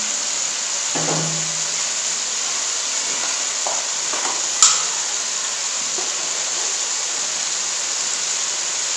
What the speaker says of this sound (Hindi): अब इसमें हम 1 टेबल स्पून जीरा ऐड करेंगे।